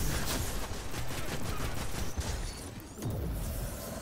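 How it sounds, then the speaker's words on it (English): Dense, continuous gunfire rattles through a round of the video game Destiny: Rise of Iron, a steady barrage of rapid shots with a brief dip near the middle before resuming at full intensity. "he was just fucking shooting his gun at me"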